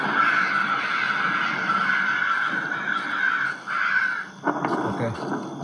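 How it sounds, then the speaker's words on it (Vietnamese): A flock of crows caws continuously in the horror game Slendrina, with loud overlapping calls forming a dense, harsh wall of sound. "Còn cái đàn quạ đang đâu?"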